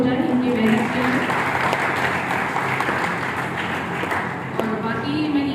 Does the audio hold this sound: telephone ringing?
no